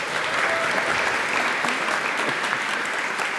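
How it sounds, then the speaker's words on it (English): Steady, dense applause from a conference audience at a lightning talks session, loud and continuous throughout with no break. "Can we have a quick round of applause, please?"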